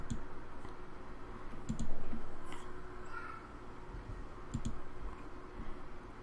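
Soft, close mouse clicks in a few scattered single taps during Sims 4 gameplay, faint over a steady game background hum.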